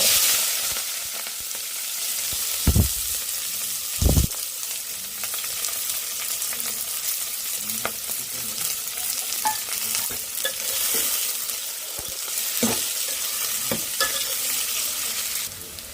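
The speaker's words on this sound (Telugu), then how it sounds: "జీలకర్ర ఆవాలు అయితే కరివేపాకు వేసుకుందాం" Cumin, mustard seeds and curry leaves fry in hot oil for a curry, giving a steady close sizzle and crackle broken by a few sharp pops and spatters, with no voices.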